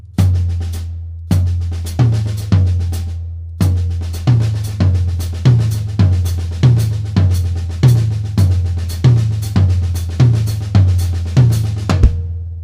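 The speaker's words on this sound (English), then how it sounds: "if I were to play the accents on the toms," A steady drum pattern plays with repeated booming low tom hits accenting the beat alongside sharp, fast strikes, loud and continuous.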